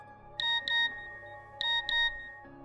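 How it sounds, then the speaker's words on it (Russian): An old mobile phone plays a text message alert tone: two bright double beeps, then a pause and another pair, close and clear with no talking. "пока мне не пришла смс-ка"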